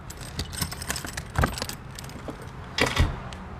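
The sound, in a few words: key turned in lock of Airstream trailer trunk compartment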